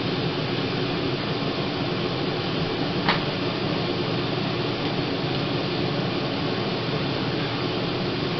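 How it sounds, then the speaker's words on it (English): A rooftop RV air conditioner runs steadily for the whole stretch, a loud, even broadband hum and whoosh of fan and compressor with one brief click partway through and no speech. "This air conditioner has been running for about 20 minutes or so."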